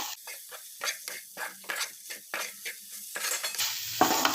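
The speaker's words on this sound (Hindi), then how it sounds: "और अभी फिर से हम लोग इसको अच्छे से मिक्स कर देंगे।" Long beans being stirred with schezwan sauce in a sizzling pan, giving repeated scraping strokes in a steady rhythm over a constant frying hiss, loud and close.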